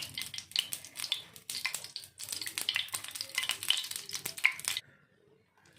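Oil heating in a paniyaram pan on a stove for karuppatti kuzhi paniyaram gives a soft, crackly sizzle with bursts of popping and spitting, close but quiet, that stops abruptly near the end.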